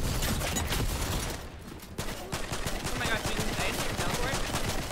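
Gunfire in Fortnite during a duos match, a dense run of rapid shots and bursts with a brief lull partway, loud and close under game noise.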